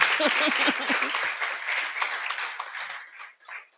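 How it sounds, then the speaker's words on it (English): Loud, dense applause from a conference audience at an African feminism gathering, many hands clapping together with some voices mixed in, then thinning and fading toward the end. "let's give them a clap and ourselves too"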